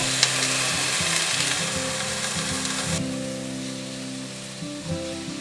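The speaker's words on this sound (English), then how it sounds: "If you put the beef belly in a large pot and stir-fry it over low heat" Beef belly stir-fries in a large pot over low heat, a steady close sizzle with soft scraping stirs and an underlying low hum, easing slightly in intensity partway through.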